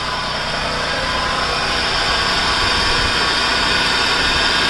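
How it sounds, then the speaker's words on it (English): A 2012 Acura MDX engine idles steadily and close up after a new alternator is fitted, a constant loud hum with a bright whine on top and no voices. "And I successfully start the car."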